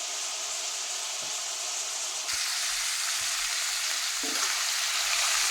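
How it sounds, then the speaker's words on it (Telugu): Ridge gourd curry frying in a pan, a continuous hissing sizzle that stays close and fairly loud throughout. It swells slightly partway through, with a few faint knocks and no talking. "వేగుతుంది ఫ్రెండ్స్, ఇంకా వేగాలి."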